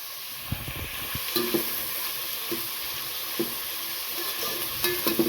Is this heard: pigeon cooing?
no